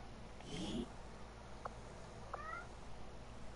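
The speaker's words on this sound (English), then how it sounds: "Shiro, stop meowing." A pet cat named Shiro meows a few times, faint and somewhat distant, behind a low steady background hum, with a brief muffled voice at one point.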